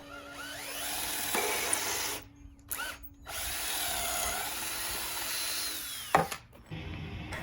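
A power drill bores pocket holes into the back of 2x6 boards for a short-legged table top, whirring loudly in two sustained runs separated by brief pauses, with a short burst near the end.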